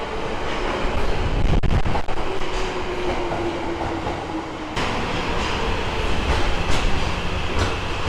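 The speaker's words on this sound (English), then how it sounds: "the 2000 series, which you will see entering the station very soon" A Tokyo subway 2000 series train rumbles and clatters loudly on the rails, with a brief screech of wheels as it rolls into the station.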